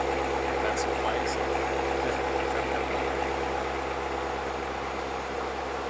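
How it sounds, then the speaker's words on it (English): A 2019 C7 Corvette Grand Sport idles just after a cold start, a steady low engine rumble that stays even throughout while people talk over it. "Oh, it is a cold start."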